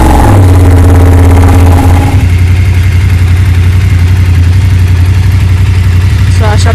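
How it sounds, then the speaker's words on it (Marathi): A BMW GS 850 motorcycle engine cold start: a brief starter whir catches into a loud, steady low idle that rumbles on close by, with a voice speaking briefly over it. "सो कोल्ड स्टार्ट करतोय."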